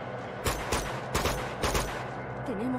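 Gunfire in Uncharted 2, several sharp bursts of shots spaced about half a second apart, fairly close and loud over a low ambient hum, no speech.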